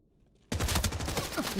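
Sudden burst of rapid automatic gunfire in a shooter game, starting abruptly after a moment of near silence and continuing as a steady, close rattle.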